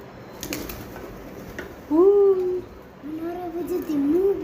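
Pigeons coo in low, rolling calls and flutter while being fed, close by, over a background murmur of voices.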